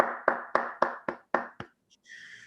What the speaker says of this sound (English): with a virtual round of applause, can we welcome her evaluator to give us the objectives of her speech, Toastmaster Kingsley Madu.